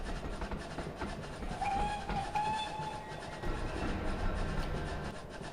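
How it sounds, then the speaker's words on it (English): A train whistle in the Railworks train simulator game sounds in a short, tonal blast over the steady rolling rumble of the train, with no talk. "let's give us a quick whistle as we go under."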